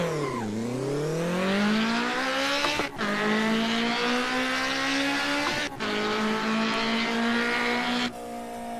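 Turbocharged K24-swapped Honda Civic EG6 launching in a racing video game, engine revving hard and climbing steadily through gears with two sharp shift breaks, loud and close with tire squeal, no talking.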